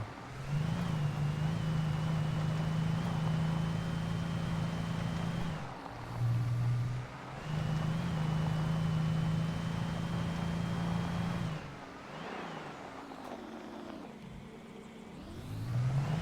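Car engine in the video game Alan Wake, a steady mid-pitched drone that holds, briefly dips and returns, then winds down with shifting, wavering revs near the end.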